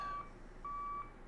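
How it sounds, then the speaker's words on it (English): Fuel truck reversing beeps in Microsoft Flight Simulator 2020, two distinct electronic tones about half a second apart, faint over a low hum, no talking. "Oh, fuel truck."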